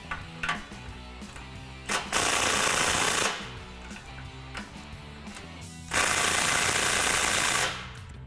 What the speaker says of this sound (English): you're going to use your 15mm socket to tighten everything down